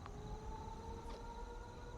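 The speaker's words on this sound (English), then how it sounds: "And I hear some siren type things." Steady, droning sirens wail from a distance inside the video game Fallout 76, holding level tones that blend with a low rumbling background for the whole stretch.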